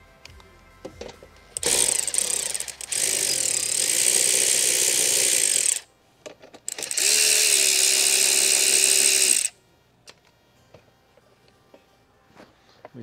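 A ratchet working the chain guard bolts on a TrailMaster Mid XRX/R go-kart whirs in two long, loud, close bursts of several seconds each, with brief clicks and quiet pauses before, between and after.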